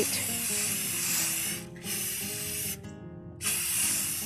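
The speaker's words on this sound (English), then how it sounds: "Just a light spray." Aerosol spray hissing in steady bursts, loud and close, with two brief pauses between sprays and no talking.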